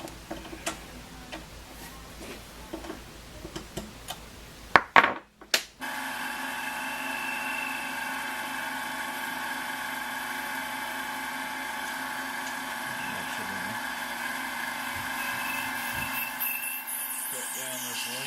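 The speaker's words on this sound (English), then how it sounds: "I'm gonna drill the hole through it." Scattered clicks and handling noises, then a loud power drill starts and whines steadily at close range for a long stretch, drilling a hole through metal.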